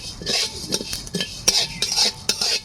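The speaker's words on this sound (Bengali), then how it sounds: "এটাকে ভালো করে ভেজে নেব" Snail meat and cumin stir-fried in a pan: a close, loud sequence of rapid scraping and clinking strokes of a utensil against the pan, with a light sizzle underneath.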